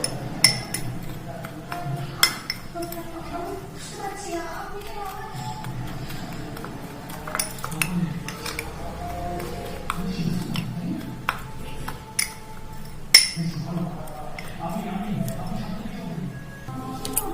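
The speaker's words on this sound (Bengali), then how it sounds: "এবার এই সমস্ত মশলাটা আমি ভালো করে মিশিয়ে নেব" A spoon stirs ground spices with powdered sugar in a bowl for fried flattened rice, giving sparse light metallic clinks and taps against the bowl at close range over a quiet background.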